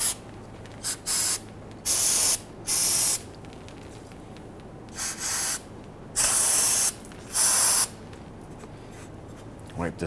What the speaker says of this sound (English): we want to go ahead and spray it down with some solvent and clean everything out.